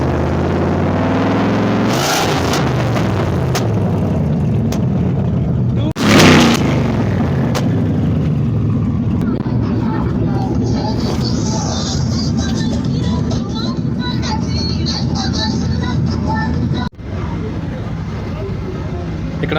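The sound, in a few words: car engine with silencer removed and large turbo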